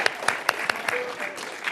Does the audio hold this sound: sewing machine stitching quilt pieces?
no